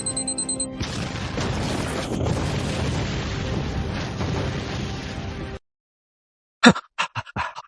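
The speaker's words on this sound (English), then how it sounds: "It is gonna blow. 5, 4, 3, 2, 1, boom." A loud, sustained blast roars for several seconds, then cuts off abruptly into silence, followed by a few sharp crashing thuds.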